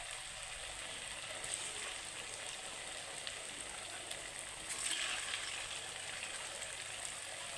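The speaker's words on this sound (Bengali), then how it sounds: "খুব আস্তে আস্তে সিমে ভাজতে হবে, ভিতর পর্যন্ত যেন ভাজা যায়" Langcha sweets frying slowly in oil over low heat, a faint, even, rain-like crackle of bubbling oil that holds steady throughout with no talking.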